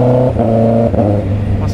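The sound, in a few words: Honda CB650R motorcycle revving with quick shifter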